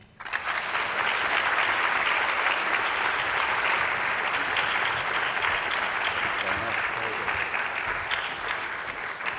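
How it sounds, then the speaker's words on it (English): Audience applause after a talk on postdocs, a dense, loud, sustained wash of clapping that starts abruptly and holds steady throughout. "Another round of applause."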